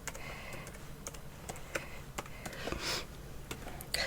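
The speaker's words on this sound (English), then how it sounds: "I'm actually typing something on a keyboard." Someone typing on a computer keyboard during a casual hobby livestream, with sharp separate clicks and clacks falling in an uneven rhythm and an occasional louder keystroke. The keys sound close and fairly quiet, with no voice over them.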